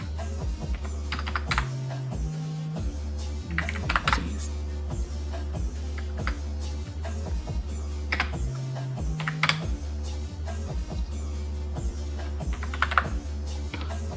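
Steady bursts of close keyboard typing as a debit card number is entered, with uneven clusters of clicks over a constant low electrical hum and occasional brief tonal shifts.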